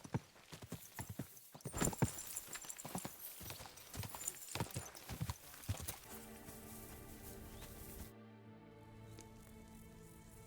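Horse hooves walking in the video game Kingdom Come Deliverance: a steady, close clip-clop of hoofbeats for several seconds, then fading as background music and ambience take over.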